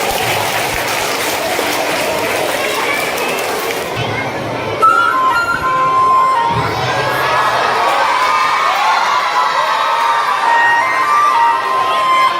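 At a school Teachers Day event, an audience of children claps, shouts and cheers loudly in a dense burst. The crowd noise eases after a few seconds into scattered applause and chatter, with music tones rising underneath.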